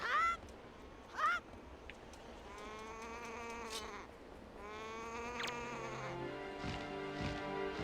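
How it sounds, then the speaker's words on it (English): Honking, bleating squawks from seagull-like birds in Zelda: The Wind Waker HD on Outset Island, a couple of sharp calls early then a long stretch of layered, buzzy tonal cries over steady ambient game sound. "Those birds make a sound like when you blow into like a broken balloon or something like that."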